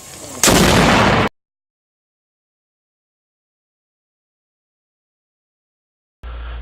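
Single loud burst of gunfire from a rifle built on a Daytona Tactical 80% AR lower receiver, then a sharp cutoff into silence, with another loud blast starting near the end.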